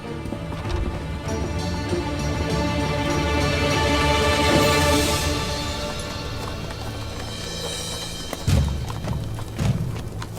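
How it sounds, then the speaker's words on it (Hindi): Horses' hooves clip-clop steadily on ground for a cavalry party readying to ride out, loud and continuous with a patter resembling rain, two heavier thuds near the end. "अल्तुगा, घोड़े तैयार करो, हम अकहिसार जा रहे हैं।"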